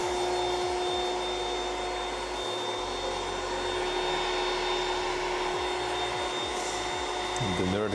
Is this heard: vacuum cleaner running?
yes